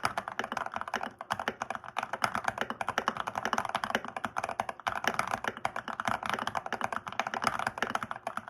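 Steady, fast typing on a mechanical keyboard fitted with SA profile keycaps, a continuous stream of close, distinct key strikes with no pauses or speech.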